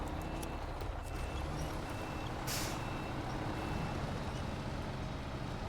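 Heavy truck engine rumbling steadily in the SnowRunner game on the Taymyr map while the truck digs in and gets stuck, with a loud continuous drone, faint beeping and a brief hiss like an air brake.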